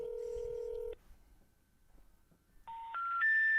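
Touch-tone telephone keypad dialing a number, a short run of clear, loud electronic tones: one long tone, a quiet pause, then three quick rising tones in succession, alone with no talk.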